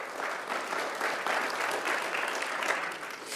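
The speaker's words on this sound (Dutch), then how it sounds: "Ja, applaus." An audience at a Noardeast-Fryslân municipal election debate claps steadily for a few seconds, a dense even patter of many hands filling the room.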